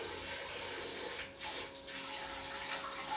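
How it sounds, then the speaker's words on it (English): A rechargeable portable camp shower head sprays water in a steady, close, hissing stream on a tighter setting, continuous throughout with no pauses. "Obviously the water is more condensed coming out"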